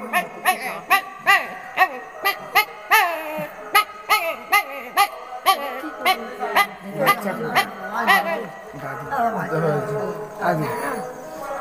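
A puppy gives a rapid series of high, yipping barks and whines in quick succession, close and fairly loud, then trails into softer whimpering calls toward the end.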